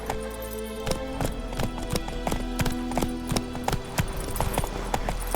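Roach, Geralt's horse in The Witcher 3, gallops at a steady clip-clop with rapid repeated hoofbeats, close and clear over a low game soundtrack rumble, with no talking.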